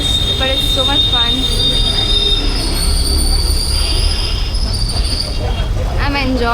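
Kolkata tram ride, loud and noisy: constant rumbling of the car with piercing metallic wheel squeals rising and falling throughout, close and overwhelming.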